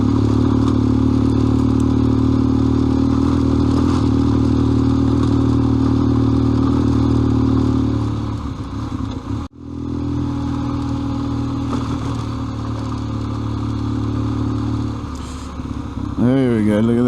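Motorcycle engine droning steadily as the bike climbs a scenic rural road, a constant loud hum with a brief dropout partway, then shifting tones near the end; a rider talks over it.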